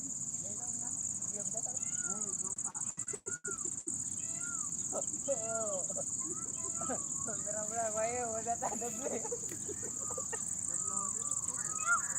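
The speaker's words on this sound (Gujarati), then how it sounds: "મોરલા બોરલા જો બોલવા મળ્યા છે" Loud, steady insect drone fills the background while peacocks call repeatedly in the middle distance in a farm field after rain, with a brief burst of handling noise early on.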